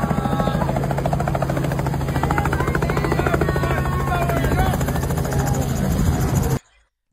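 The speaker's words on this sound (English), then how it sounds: "But hey, this helicopter" A helicopter roars steadily nearby, a loud continuous rotor thrum and engine whine that holds for several seconds before cutting off abruptly.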